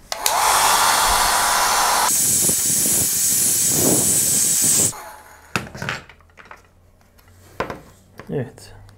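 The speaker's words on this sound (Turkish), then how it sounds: "Ben saç kurutma makinesi kullanıyorum" A hair dryer blows hard and loud for about five seconds, heating the adhesive on the back cover of a Redmi Note 7 phone, then cuts off, leaving faint clicks and handling noises.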